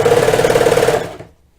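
A serger stitches knit sweater cuffs in one fast, close, loud mechanical burst of about a second that stops abruptly, followed by a tiny click.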